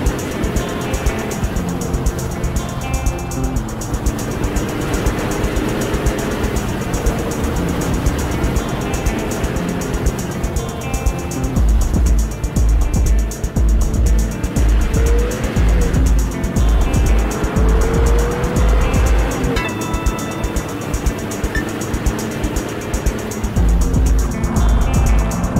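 A car drives in a video game, a loud continuous engine drone with rising and falling revs and heavy low rumble throughout, close and without talking.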